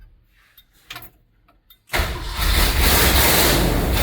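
A 1974 Ford F100 pickup engine cranks over a few times, then catches at about two seconds and roars into a loud, rough idle that holds to the end.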